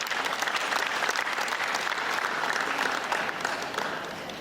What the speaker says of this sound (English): I need you guys to please give a round of applause to Patrick Doyle